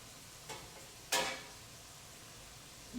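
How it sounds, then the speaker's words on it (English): Liquid hits a hot pot of cow heel soup and sizzles briefly, two quick bursts of hissing close by, the second louder, then a quiet steady background. "Yes, hear that sizzle."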